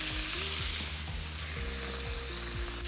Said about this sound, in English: And start sauteing them a little bit.